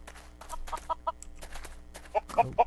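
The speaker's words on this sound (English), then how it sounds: "Chickens." Minecraft chickens cluck in short, clipped bursts, a series of separate clucks that come closer together toward the end.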